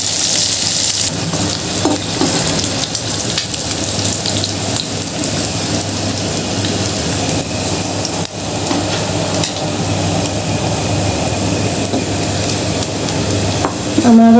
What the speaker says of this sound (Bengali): চিংড়ি মাছের খোসাটা যখন ক্রিস্পি হয়ে যাবে, মানে মুচমুচে হয়ে যাবে, তখন হচ্ছে তুলে ফেলতে হবে। আর একটু ভাজতে হবে।